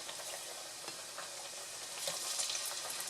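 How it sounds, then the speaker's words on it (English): Flattened plantain slices frying in hot oil for a Puerto Rican meal, a steady soft sizzle and crackle that swells slightly louder toward the end, with no talking. "We're going to put it back in the hot oil"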